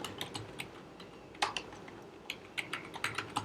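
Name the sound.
typing code on a computer keyboard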